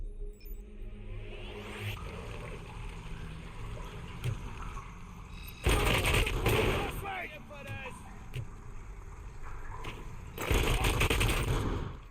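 Turret gunfire in the video game RoboCop Rogue City: two loud bursts of rapid automatic fire, each a few seconds long, cutting through a steady game soundscape with lower background rumble and faint effects between them.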